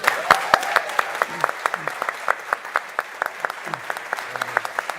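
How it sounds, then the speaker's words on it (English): Applause for presenters at a fintech summit mainstage, scattered individual claps sounding in a loose irregular rhythm under a soft murmur, fairly close and moderate in volume throughout. "So can we give a round of applause to these guys?"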